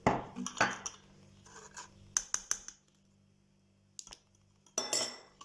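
Whisking a mixture of water and ingredients in a bowl, heard as bursts of scraping, clinking strokes against the bowl with short pauses between them, close and fairly quiet.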